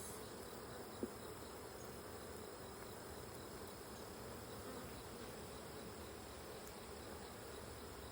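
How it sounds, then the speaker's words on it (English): A dense, continuous buzz of many honeybees droning together around a hive, steady and fairly faint, with no voices. "Wow, there's lots of bees."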